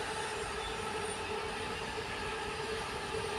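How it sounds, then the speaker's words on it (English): A train rumbles past close by a carp fishing lake, a continuous loud roar of wheels on rails with a faint high squeal riding over it. "Train."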